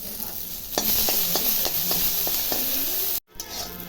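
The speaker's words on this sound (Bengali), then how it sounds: "রসুনগুলো এখন ভাজবো" Garlic and dried chillies frying in oil give a bright, steady sizzle with a run of rhythmic spatula scrapes, close and loud, then a brief cut to silence before the sizzle resumes.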